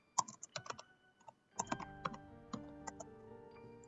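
Typing on a computer keyboard at a desk running Matlab: brisk, close key clicks in two quick bursts separated by a short pause, with no voices.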